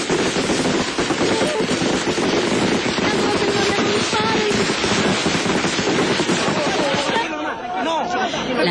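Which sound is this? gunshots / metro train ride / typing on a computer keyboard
gunshots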